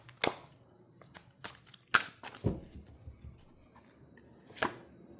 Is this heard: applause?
no